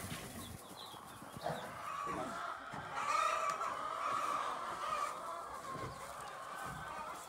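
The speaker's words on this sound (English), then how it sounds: "Little tiny baby pheasants." Tiny pheasant chicks, only a couple of days old, peep and cheep continuously in a brooder pen, a dense chorus of small high calls at moderate level with some faint background noise.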